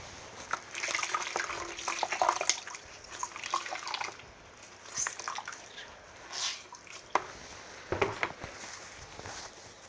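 Water splashes and trickles while PC fan blades are washed, with irregular drips and sloshing bursts close by at low level, with no talking.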